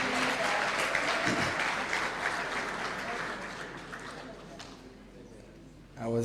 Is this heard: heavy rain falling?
no